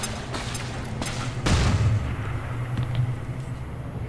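A flashbang grenade goes off in XCOM 2 as a single dull, booming burst, with a muffled rumble rolling on under a steady game backdrop.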